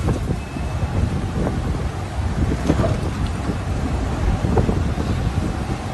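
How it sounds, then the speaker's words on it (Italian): Strong wind on the night of the 13 November 2019 Venice flood roars steadily close to the microphone, a dense broadband rush with gusting buffets and low rumble, and no voices. "Fuori il vento strappa vaporetti e motonavi dagli ormeggi."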